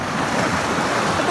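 Strong sea waves roar steadily and loudly, with a continuous broad rush of surf and some wind buffeting the microphone.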